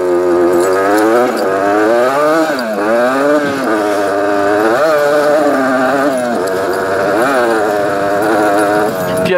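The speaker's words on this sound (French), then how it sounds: "quand elle monte dans les tours, elle arrache vraiment, on sent la puissance." A Suzuki TSR 125cc two-stroke motorcycle revs hard and close, its buzzing engine note climbing and falling repeatedly through the gears, loud and continuous with no talking.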